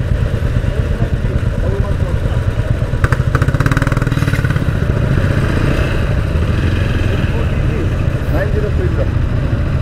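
Several motorcycles idle together at a roadside checkpoint in the Sikkim hills, a dense low engine rumble with rattling, steady and close, as people talk over it.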